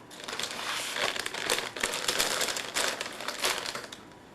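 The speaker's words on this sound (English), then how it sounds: "forcing you to watch me eat my sour cream and onion potato chip" Someone chews sour cream and onion potato chips close up, a steady run of loud, crisp crunches with no talking.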